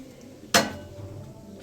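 A single sharp clink of a utensil against a bowl while egg is mixed into dragon chicken batter, one short knock followed by faint scraping.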